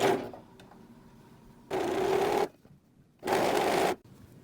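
A serger overlocking fabric runs in two separate bursts of stitching, each about a second long, with quiet pauses between them and no talking.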